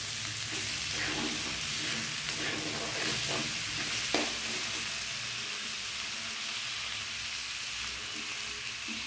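Tomato pieces sizzle in a hot pan with spices, a steady frying hiss broken by scraping stirs from a spoon, close and without talk.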